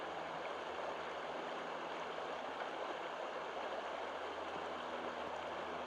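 A stream forming part of the San Diego River flows steadily, a faint, even rush of water with no voices over it.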